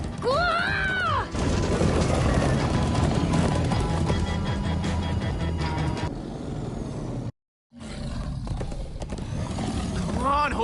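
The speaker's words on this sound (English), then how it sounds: "Come on, horses!" Horses gallop in the Minecraft Story Mode video game, with loud rapid clip-clop hoofbeats, a whinny at the start, a rumbling ride with game sound effects, a brief dropout, then a cry near the end.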